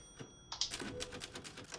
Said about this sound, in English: Use typewriters to save your progress.